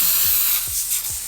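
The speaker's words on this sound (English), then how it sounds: "I am also spraying this on some aluminum foil" Spray starch hisses from an aerosol can onto aluminum foil in short bursts, a bright, airy spray close up, loud and steady with no voices.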